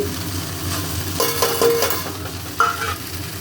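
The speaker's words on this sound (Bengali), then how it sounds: "এরপর দিচ্ছি ঘি" Ghee hitting a hot pan, giving a steady close sizzle with a few brief metallic scrapes and clinks of a utensil partway through, no voices.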